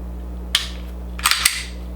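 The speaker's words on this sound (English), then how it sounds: "one of the downsides to doing dry fire is you have to rack the slide each time" An unloaded pistol in dry-fire practice gives one sharp trigger click, then the slide is racked in a quick metallic clack-clack, all close and crisp against a steady background hum.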